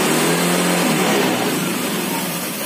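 Honda Vario 125 FI scooter engine held at a steady high rev, loud and close, a dense continuous drone that eases slightly toward the end, with no talk.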